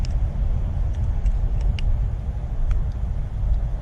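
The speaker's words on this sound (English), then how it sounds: "Those are definitely semi trucks and big trucks that you hear." Heavy semi trucks and big trucks rolling past at night, a steady low rumble of traffic throughout with faint higher clanks and brake hisses over it, with no talk.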